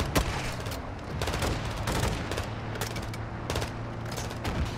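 Rapid bursts of automatic gunfire aimed at vehicles in the video game Modern Warfare II, dense loud volleys with sharp individual shots and booming impacts, continuous throughout.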